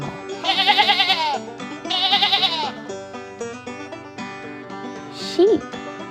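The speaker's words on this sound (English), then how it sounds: "Sheep." Sheep bleating for a farm-animal identification quiz: two loud, wavering bleats in a row, then a short fainter cry near the end, heard over steady background music.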